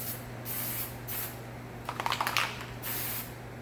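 Silicone coat sprayed onto a 2015 Honda Accord Sport door in several steady hissing passes, with a short crackling sputter midway, close and fairly quiet over a low shop hum.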